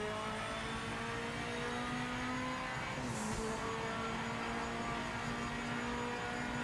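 A race car laps Monza in the video game Project Motor Racing, its engine droning steadily at high revs with a brief shift in pitch and a faint tire hiss, continuous and even throughout.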